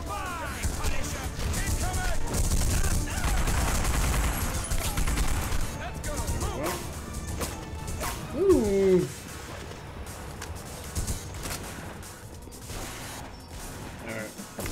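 Bursts of gunfire from The Punisher video game, rattling and crashing with mechanical clatter, a sharp loud burst near the middle and voices shouting over the fighting.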